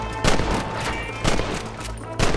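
Gunfire in Red Dead Redemption: three loud, close volleys of rapid shots crack out at roughly one-second intervals, with a busy game soundscape filling the gaps.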